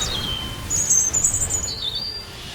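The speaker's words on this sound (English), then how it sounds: "Then use our big bird explosion." A big bird explosion attack effect in the video game Phantasy Star Online 2 New Genesis gives off high, bright whistling chirps that glide and warble over a low hum for a couple of seconds, with no talking.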